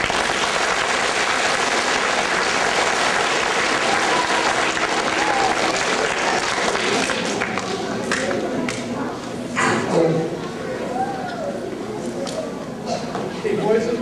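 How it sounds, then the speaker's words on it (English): Audience applause at a Woodrow Wilson concert: a broad wash of clapping from a crowd that carries on for several seconds, then thins as voices and a speaker come through toward the end. "Give him a round of applause."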